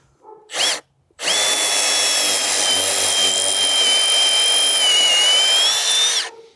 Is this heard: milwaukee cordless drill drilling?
yes